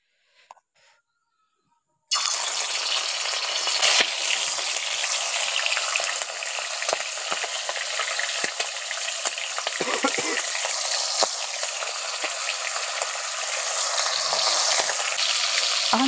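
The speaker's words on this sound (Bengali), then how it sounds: "এবার এর মধ্যে আমি এক পিস করে চিকেনটা দিয়ে ভালো করে ভেজে নেব।" Chicken pieces drop into hot oil for a spicy bhuna masala, and a loud, steady frying hiss starts after a short quiet moment. The sizzle keeps up throughout, with occasional small pops and crackles.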